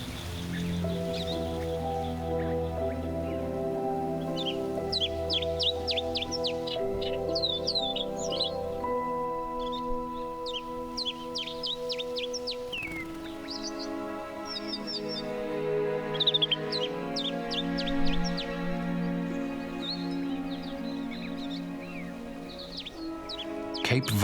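Cliffs in a national park carry a busy mix of bird calls, scattered sharp chirps and high cries over a steady layered drone, near a Cape vulture colony in winter, continuing for the whole stretch without talk.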